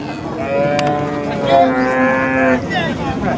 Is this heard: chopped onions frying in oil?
no